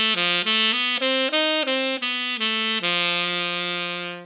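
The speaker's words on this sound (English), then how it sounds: "That's my Lydian dominant pentatonic." A Lydian dominant pentatonic scale played on a sustained, harmonically rich instrument: eight clear separate notes climbing and then falling back, ending on a long held note that slowly fades, with no talk.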